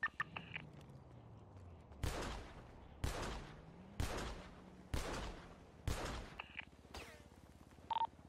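Five evenly spaced heavy shots from a Browning gun in a video game crack out about a second apart, each with a long decaying echo, with faint beeps at the start and end.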